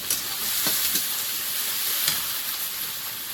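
Chopped onion, cumin seeds, whole garam masala and bay leaves sizzle in hot oil for a mutton dish, giving a steady close hiss with a few soft stirring scrapes and no talking.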